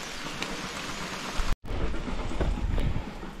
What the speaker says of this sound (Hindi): थोड़ी बारिश आ चुकी है